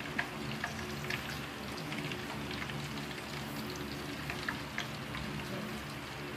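Chicken pieces deep fry in hot oil during a second fry, a steady dense crackling sizzle that holds evenly throughout with small pops on top.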